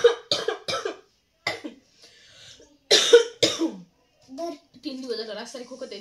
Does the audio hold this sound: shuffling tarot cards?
no